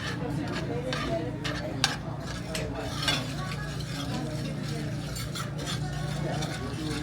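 A rum-flambéed dessert sizzles in a hot pan at a steakhouse, with clinks and scrapes of utensils stirring, while voices talk faintly in the background.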